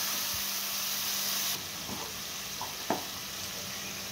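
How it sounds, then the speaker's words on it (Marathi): Tomato sautés in a pan for Khandeshi dal batti, a moderate frying hiss that drops in level partway through, with a couple of brief stirring clicks. "हा टोमॅटो टाकून घ्यायचा आहे। व्यवस्थित परतून घ्यायचं आहे।"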